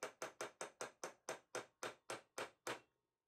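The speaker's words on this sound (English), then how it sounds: "I'm using a centre punch, and I'm moving the centre punch and tapping it with a hammer" A hammer taps a centre punch against a sheared-off bolt on a model steam engine crosshead: eleven sharp, evenly spaced metallic strikes, close and clear, with no talking.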